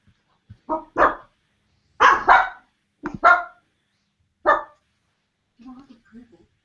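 Two dogs bark in loud, separate bursts, a few single barks and doubled woofs spread over several seconds, close to the microphone, ending in softer low whines or grumbles.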